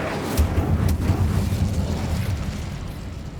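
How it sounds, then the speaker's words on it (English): An Incendio fire spell bursts in Hogwarts Legacy with a sharp, loud whoosh. A rolling, fiery roar follows and then slowly dies away. Two brief cracks punctuate the start, and no voice talks over the blast. "Incendio!"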